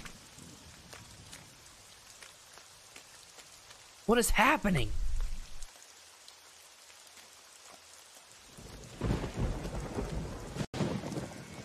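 Steady video game rain hisses throughout with low thunder rumbling, and a voice briefly speaks partway through before the downpour swells again.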